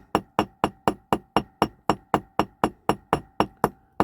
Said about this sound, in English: I'm just letting the weight of the hammer actually do the work.